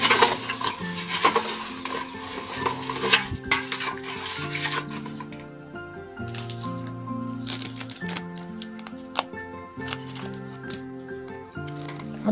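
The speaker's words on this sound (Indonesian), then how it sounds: "Aduk, aduk, aduk." Ground garlic being stirred in a frying pan in a rustic forest hut kitchen, scraping and clinking of utensil against the pan over steady frying noise, with strong repeated tonal background sounds throughout.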